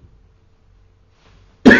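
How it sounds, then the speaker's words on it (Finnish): A single loud, close cough bursts out at the end of a quiet stretch, coming from someone speaking Finnish in a talk about telephone sales. "Anteeksi, en mä tiedä, miksi mua niin yskityttää."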